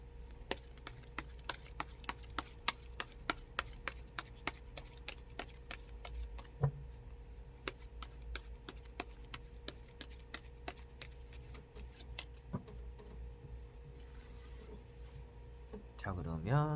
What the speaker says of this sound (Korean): 1월 15일 수요일 카드를 섞어 보도록 해보겠습니다